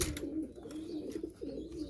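Gumbad pigeons coo in a loft, low repeated rolling coos close by, one after another without pause.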